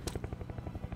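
Helicopter rotor from the video game Call of Duty: Black Ops Cold War, a steady rapid thumping of blade chops, close and continuous across the moment with no talk.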